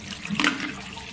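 Water poured into a fidget spinner bearing, a brief close splash and gush of liquid that swells and fades within about a second.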